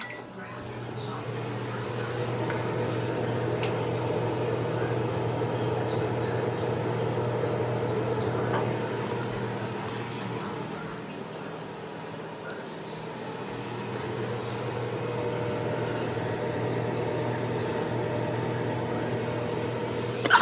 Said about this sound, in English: I'm just putting the Oreo in the microwave for 30 seconds.